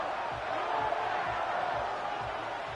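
A football stadium crowd ahead of a big third down makes a steady, broad roar of cheering that holds at an even level throughout without sharp peaks.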